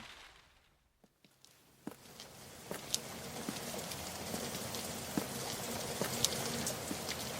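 Rain sets in from near silence and builds into a steady, close patter on surfaces, with scattered louder drips and taps throughout as a dramatized sound effect, no voices.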